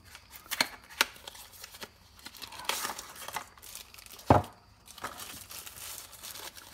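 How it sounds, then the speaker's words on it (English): A small RAVPower 61W GaN wall charger package is opened by hand, with crinkling plastic, rustling cardboard and quick flapping sounds, plus one louder thump near the end and no one talking. "Let's unbox."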